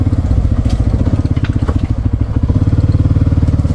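A 2024 Kawasaki Mule Pro MX side-by-side crawling over a rocky rock garden, its engine pulsing in a steady, loud, rapid throb close by, with crunching and knocking from the rocks under the tires.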